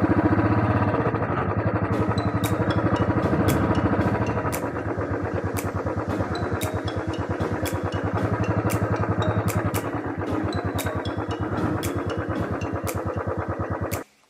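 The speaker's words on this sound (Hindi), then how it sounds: "तो मैं पूरा बाइक लेके ही जा रहा हूँ" A motorcycle is ridden along a rural track in the Barak Valley toward a natural swimming pool; its engine throbs steadily and close up with rapid rhythmic pulses, then cuts off at the end.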